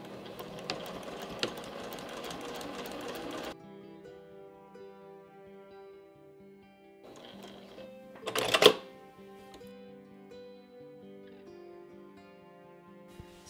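A sewing machine stitches a reusable kombucha cloth cover in quick bursts, first a steady run of rapid stitching, then brief shorter spurts with quiet gaps between.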